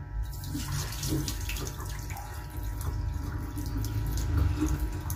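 Water pouring steadily into rice for cooking, a continuous close splashing rush that lasts the whole few seconds, with no talking.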